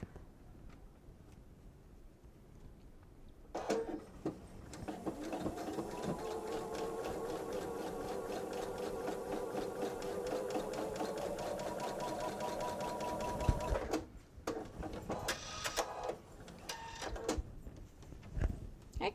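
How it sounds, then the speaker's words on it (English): A sewing machine stitches a bench pillow seam in one long, steady run of rapid mechanical whirring and clatter lasting about ten seconds, with handling noises before and after. "And now from the seam, we sew at the same angle."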